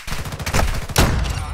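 Gunfire in a first-person shooter video game, heard as close, loud, rapid bursts with a sharp crack near the end, all within a short, intense exchange.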